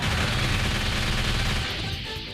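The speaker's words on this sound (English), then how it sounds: "Proton cannon!" Proton cannon weapon firing in a video game, a loud, dense burst of blasting energy sustained for about two seconds before easing slightly, with no talk over it.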